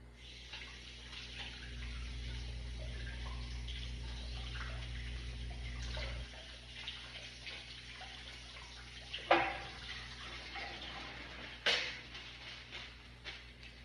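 Tap water runs steadily into a kitchen sink as hands are wetted after shaping floury dough, a continuous close rush with a couple of sharp splashes and clunks near the end.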